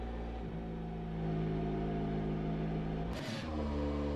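A car in the racing simulator rFactor 2 picks up speed gently, its steady engine tone building smoothly, with a brief gear-shift dip near the end and no voices.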